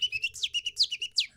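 A man imitates a goldfinch's call with his voice, producing a quick run of about eight bright, high chirping notes in a steady rhythm, close and clear with nothing else behind it.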